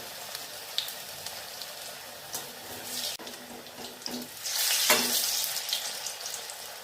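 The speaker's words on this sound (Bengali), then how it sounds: "এবার আমি ভাজাটা শুরু করব।" Batter-coated eggs for egg pakora fry in hot oil, a steady sizzle with soft crackles that swells louder as more pieces go in, with no talking.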